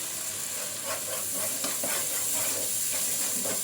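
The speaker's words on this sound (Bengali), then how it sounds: "এটা এখানে 3-4 মিনিটের মতো ভেজে নিব।" Onion paste fries in a pan for a fish curry, a steady mid-level hiss and sizzle with soft bubbling and faint stirring scrapes, close by and without speech.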